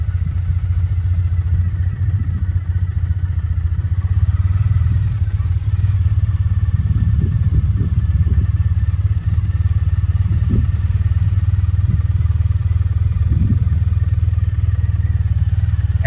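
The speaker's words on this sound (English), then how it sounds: "This is a torquey enough engine, I don't really need to give it any throttle while taking off, just using the clutch." A 2016 Triumph Bonneville T100 with a sidecar rumbles steadily at low revs as it rides, a continuous deep engine drone with a few light clattering knocks.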